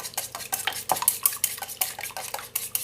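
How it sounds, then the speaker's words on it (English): Rapid clicking and tapping of a compact camping kitchen whisk beating an egg in a bowl, quick irregular metallic strokes close up with no voices. "let's break an egg, and let's whisk an egg and see how that does"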